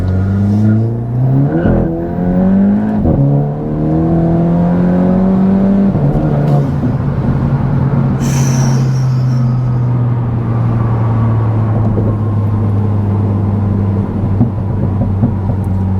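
A VW Golf GTI MK8 with a Stage 1 tune accelerating hard from a stop, engine note climbing repeatedly through upshifts, then settling into a loud sustained drone as the car cruises on.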